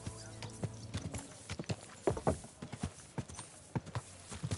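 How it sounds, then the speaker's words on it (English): Horse hooves clip-clop in the medieval video game Kingdom Come: Deliverance II, an uneven run of sharp nearby hoof strikes mixed with a horse's snorts and whinny. "Don't you know how to keep your horse under control?"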